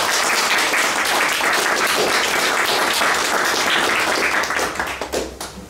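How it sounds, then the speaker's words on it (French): Loud, dense applause from a conference audience in Nice, France, sustained throughout and thinning out toward the end. "je vous demande d'applaudir chaleureusement Ali Moudine Ousmane."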